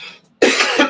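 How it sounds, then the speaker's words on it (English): A single harsh cough bursts out close and loud after a moment of near-quiet, short and throaty. "I'm sorry I keep coughing."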